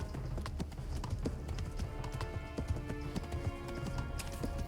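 A horse gallops in the medieval game Kingdom Come: Deliverance, with steady rapid clip-clop hoofbeats over a dense backdrop of game sound and music, with no voices.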